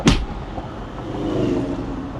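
Mitsubishi Pajero engine and exhaust, a sharp, close revving burst at the start that settles into a low, steady rumble with no talking.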